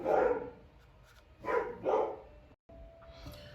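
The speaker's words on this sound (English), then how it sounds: "I had to wait for the barking to stop" A dog barks in three loud, close bursts spread across the moment, with a brief dropout of sound between the later barks and a fainter yelp near the end.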